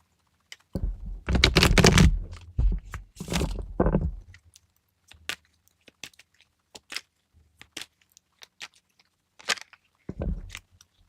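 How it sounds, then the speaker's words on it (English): Tarot cards being shuffled up close: a dense riffling burst for a few seconds, then scattered light taps and flicks as the deck is handled, with no talking. "I want to shuffle this again"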